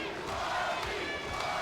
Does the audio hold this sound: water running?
no